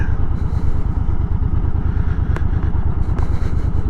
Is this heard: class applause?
no